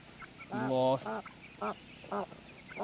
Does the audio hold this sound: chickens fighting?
yes